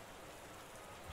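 Heavy rain falling in the French Quarter on Bourbon Street in a video game, a dense, steady hiss of rain on surfaces, faint and unbroken for the short moment.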